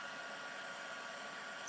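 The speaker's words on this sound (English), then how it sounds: "Now this is a heat tool." Embossing heat tool blowing hot air onto paper for stamping, a steady, even airy whoosh held throughout at a modest level, with no talk over it.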